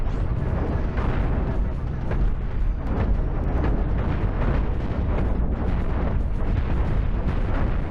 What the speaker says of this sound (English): all of these electro bolts are actually turning and firing